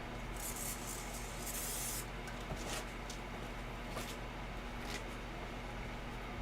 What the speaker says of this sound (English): I am going to give my glitter a little shot of spray.